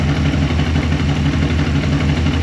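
A well-used Holden HT V8 engine runs close by with a loud, steady, throaty rumble. It holds one even level for the whole stretch, without clear rises or falls.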